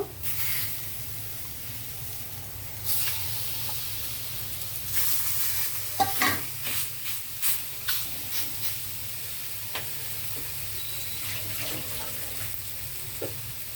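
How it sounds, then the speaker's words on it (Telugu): Korameenu fish pieces shallow frying on a flat pan, a continuous close sizzle with scattered clinks and knocks of handling in the middle, no voices. "ఈ ముక్కలు నేను ఫ్రై చేయడానికి ఇదిగో పెనం మీద పెడుతున్నాను"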